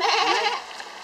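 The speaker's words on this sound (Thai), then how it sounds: "นี่คือเสียงของลูกแกะนะคะ" A lamb at Qingjing sheep farm in Taiwan gives a single short, close bleat that fades out within about a second.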